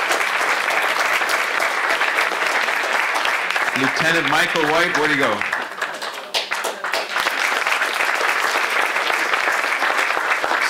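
Sustained audience applause fills a town hall gathering, dense and loud, briefly dipping while someone speaks before the clapping swells again.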